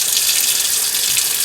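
Warm water runs steadily from a sink tap, a continuous close hiss of flowing water used for rinsing while oxidizing sterling silver jewelry with liver of sulfur, with no talk over it.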